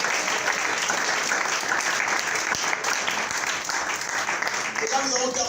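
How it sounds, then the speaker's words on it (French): Loud, sustained applause from a church congregation, a dense continuous clatter of many hands that fills the space evenly for several seconds, with voices mixed faintly into it. "Est-ce que tu peux acclamer très fort?"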